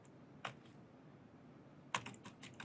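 Computer keyboard typing HTML code, a lone keystroke followed after a pause by a short flurry of quiet clicking keys, faint and close in a quiet room.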